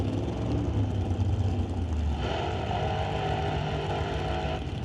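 Alcohol-fuelled drag racing car at an NHRA test-and-tune session, its engine roaring loud and steady throughout, with a deep low rumble in the first half that shifts into a harsher, brighter blare.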